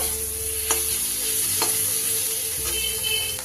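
Chopped tomato frying with fish masala in a pan for a bhola fish curry, a steady close sizzle with a few sharp stirring scrapes spaced through it, no voices.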